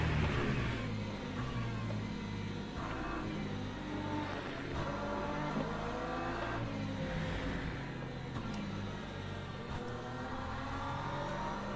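An LMP3 prototype race car in the sim racing game Le Mans Ultimate revs and passes in a multiclass race, with a fairly quiet whining engine note that rises and falls over several gear changes.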